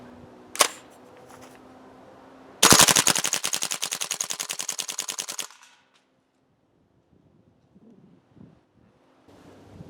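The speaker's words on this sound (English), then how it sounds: "Let's do some full auto testing." A PTS Mega Arms MKM airsoft gas blowback rifle fires one sharp shot, then a rapid full-auto burst of about three seconds of evenly spaced cracking reports, followed by near silence and faint handling.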